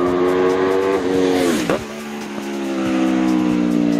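An Aprilia superbike engine revs hard and close, its high wail rising, dipping sharply at one point like a gear change or throttle blip, then climbing and holding steady, loud and continuous with no talk.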